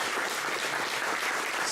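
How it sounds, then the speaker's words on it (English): Conference audience at the OpenSIPS Summit 2024 in Valencia applauding, a dense, even wash of many hands clapping throughout the short moment. "Let's just give these guys a round of applause."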